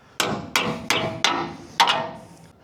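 Five sharp metal-on-metal hammer blows land close and loud at a steady rhythm, each ringing briefly, as welds are knocked loose on a GMC CCKW military truck body being turned into a trailer.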